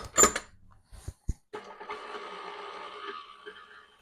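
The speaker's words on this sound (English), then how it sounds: "We're going to whisk this to soft peaks." Hand mixer whisking cream with powdered sugar and vanilla toward soft peaks in a bowl, starting after a few sharp knocks and clicks, then a steady close whirring buzz for the rest.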